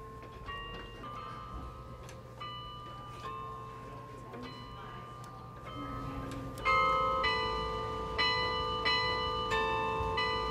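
Bells ring out a rock melody in an outdoor town setting, struck notes sounding at a steady pace, moderately near, with a louder, fuller passage toward the end over background street noise.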